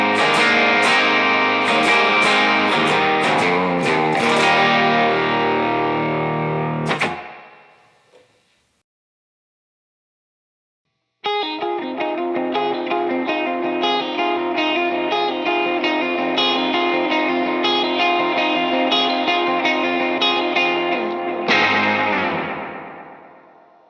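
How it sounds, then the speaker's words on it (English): Electric guitar driven through a Tim overdrive with a touch of Strymon Flint reverb, playing loud, dense distorted chords and lines in two passages separated by a few seconds of silence, ending with a ringing reverb tail. "with nothing but the Tim overdrive and a little bit of verb from the Strymon Flint sounds"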